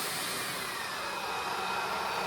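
An AiDot V25 cordless stick vacuum cleaner motor runs steadily, a continuous airy whir holding an even level from start to finish.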